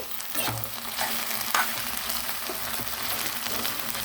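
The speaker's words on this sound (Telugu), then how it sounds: "చూడండి ఇలా మధ్య మధ్యలో కలుపుతూ ఉండాలండి లేకపోతే మాడిపోతాయి" Sliced okra fries with salt in a pan while being stirred now and then, producing a dense, continuous crackling sizzle with scraping spoon strokes throughout.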